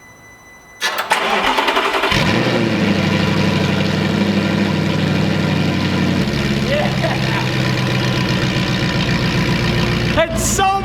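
A straight-piped Audi R8 engine with no mufflers fires up after a brief quiet start and settles into a loud, raw, continuous idle, ending with a short burst of noise.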